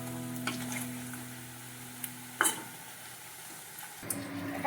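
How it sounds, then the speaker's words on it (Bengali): Pointed gourd kofta balls fry in oil over a very low gas flame, giving a soft steady sizzle with a few faint clinks and scrapes. "একদম লো ফ্লেমে আমি ভাজছি"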